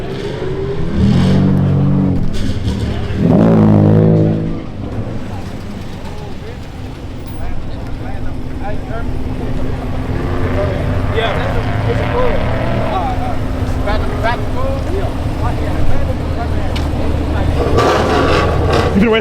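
A BMW and another car rev hard at a street car meet, loud engine roars rising and falling, followed by a long droning engine hum under crowd noise and voices in the open air.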